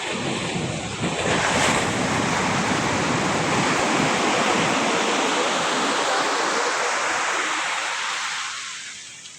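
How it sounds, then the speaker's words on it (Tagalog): Ocean waves break on the shore in a loud, rushing surge with heavy wind buffeting, building early, holding, then receding into quieter wash. "Sunod yung alon."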